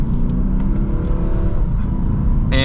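A naturally aspirated V8 car engine rumbles loudly and steadily, rising into a sharp higher-pitched rev near the end.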